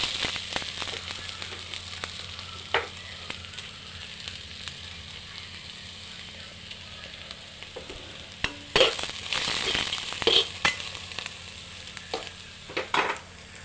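Grated coconut for papadam thoran fries in a pan, a steady close sizzle broken by scattered scraping stirs and small pops that cluster toward the end, with no talking.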